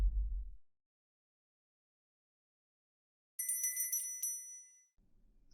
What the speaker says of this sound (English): You hear the bell ringing from the other side of the house.